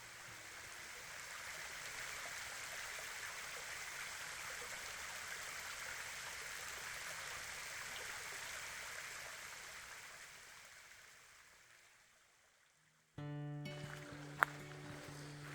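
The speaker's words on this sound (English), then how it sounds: "The sound of that water trickling through the rocks" Water trickles through the rocks of a creek along a hiking trail, a soft, steady rushing hiss that fades away after about twelve seconds. The sound then cuts abruptly to an unrelated tonal sound.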